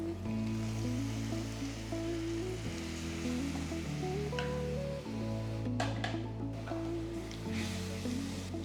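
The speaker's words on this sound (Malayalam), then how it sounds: "അത് വെള്ളം ഇതിനകത്തേക്ക് ചേർക്കാം" Peas masala sizzles steadily in a hot pan as water is added, the frying hiss continuous under loud background music.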